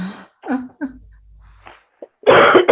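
A single harsh, breathy cough bursts out at the end, after a few soft vocal sounds and a short stretch of near silence.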